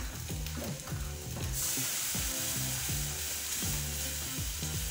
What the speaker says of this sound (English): That sizzling actually means my heat is too high.